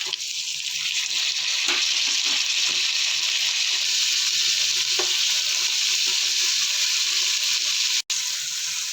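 Tomatoes sizzle loudly in a pan of hot oil while cooking for mutton biryani, a dense continuous frying hiss with occasional stirring knocks, close and steady throughout.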